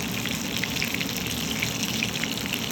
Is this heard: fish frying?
yes